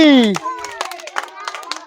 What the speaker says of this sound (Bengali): তার জন্য সকলে মিলে জোরে একটা হাততালি।